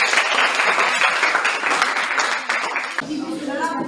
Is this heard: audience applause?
yes